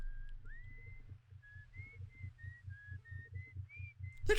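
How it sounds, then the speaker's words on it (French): A melodic whistled tune of short sliding notes over a steady low electronic hum, ending in a sudden loud burst. "Il y a quelqu'un qui siffle sur la lune!"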